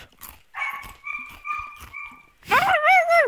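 A dog whimpers and whines up close in a few thin, high, drawn-out cries, then lets out a louder, wavering yelp-like whine at the end.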